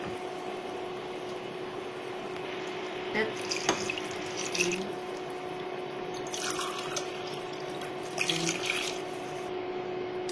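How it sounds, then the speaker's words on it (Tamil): Water pours into a pot in a continuous stream with occasional splashes and drips. The flow sounds close and steady and lasts the whole time. "அஞ்சு கிளாஸ் தண்ணி சேர்த்துட்டேங்க"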